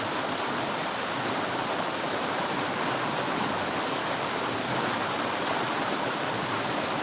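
Mountain stream water flows steadily and close by, a constant broadband rush of running water that stays even throughout with no talk over it.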